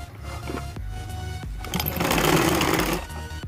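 A sewing machine stitches the neck fabric of a maxi dress, with a close, rapid mechanical whir that speeds up into a dense run of stitching and then slows, broken by small clicks.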